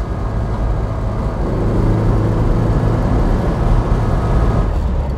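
A 1961 Porsche 356 B T6 hardtop coupé drives along a mountain road, its engine giving a steady, close, continuous drone that stays loud and even, with no talking.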